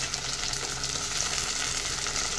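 Onions fry in hot oil as shrimp goes in, a continuous close sizzle and crackle without any talking.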